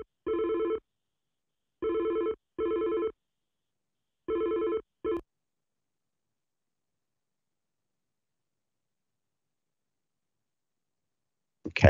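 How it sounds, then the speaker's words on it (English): A telephone rings in repeated double bursts as a transferred call connects from hold, a steady electronic tone starting and stopping several times, then long silence before a brief click at the end. "It's now connecting to Rose, I hope."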